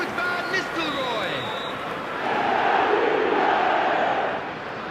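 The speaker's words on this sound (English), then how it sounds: "Now the crowd are demanding that they just finish this off." Stadium crowd roar in the eFootball video game, a broad steady wash of cheering that swells louder partway through, with a commentator's voice speaking over the first part.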